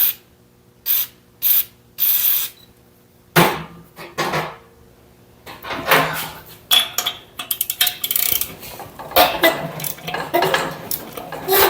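A ratchet wrench works loose a long-seized spark plug on an old abandoned Wisconsin engine, giving short bursts of clicking and grinding, first in separate strokes, then in a denser run of quick metallic clicks.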